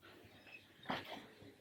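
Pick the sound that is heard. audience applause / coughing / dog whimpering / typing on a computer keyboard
dog whimpering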